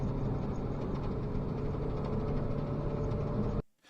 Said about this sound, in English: You could hear that engine after that explosion